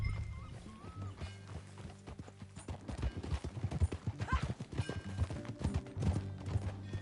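Horse hooves clip-clop in a steady riding rhythm in Red Dead Redemption, growing louder partway through, with a few whinnies and a soft background hum.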